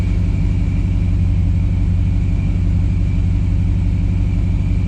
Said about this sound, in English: Sounds mean. Definitely sounds like she's got a cam.